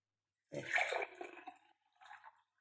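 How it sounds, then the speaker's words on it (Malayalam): Fenugreek soaking water being strained, a short burst of pouring and trickling liquid that fades, then a brief second trickle, close and alone. "ഇങ്ങനെ അരിച്ചെടുക്കും"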